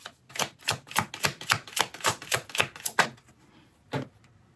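Tarot cards being shuffled close up, giving about a dozen crisp, rhythmic slaps and riffles at an even pace before they stop, followed by one last isolated card snap after a short pause.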